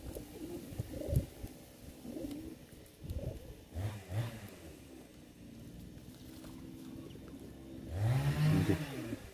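Pigeons cooing around a winter bathing tub of water, low soft coos repeating through the scene with a louder, closer burst of cooing near the end, alongside faint splashing and background noise.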